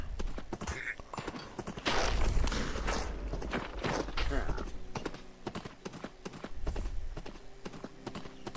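Horse hooves clip-clop steadily in the Wynncraft video game, a quick run of close, sharp knocks under a player's chatter.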